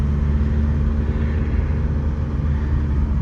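A Volkswagen Jetta TDI diesel engine drones steadily with a low, continuous rumble while driving, loud and close, with no talking.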